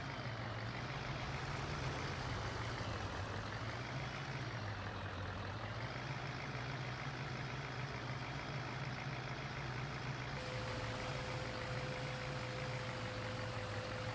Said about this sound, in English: let's see if the truck will get up the hill here